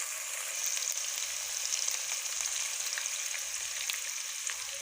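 Finely chopped onion fries in a pan for a masala fish curry, a dense, steady hiss of sizzling oil that stays loud and even throughout, with faint crackles scattered through it.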